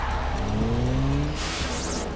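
Car pulling away at night with a rising engine note and a brief tire squeal, loud and close over steady background noise, fading as it moves off.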